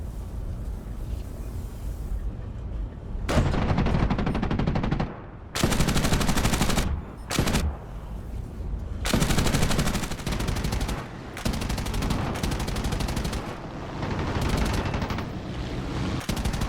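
Machine guns of a P-38E Lightning firing in the War Thunder flight game, loud sustained bursts of several seconds each separated by short pauses, over a constant engine drone.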